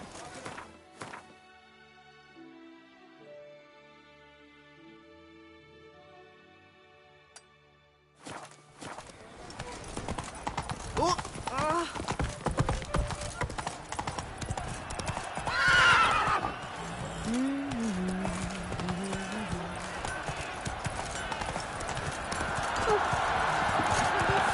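Roach the horse in The Witcher 3 clops along with steady hoofbeats on the ground and lets out a loud whinny partway through, while a voice is heard alongside game music and ambience.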